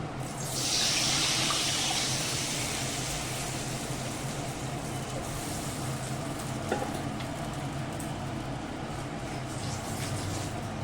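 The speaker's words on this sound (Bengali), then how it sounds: "এই জলটা এবারে তেলের মধ্যে ছেড়ে দিচ্ছি" Turmeric-spiced water poured into hot oil in a pan for a Bengali katla fish curry, a loud steady rush and sizzle that holds for about ten seconds with no talk.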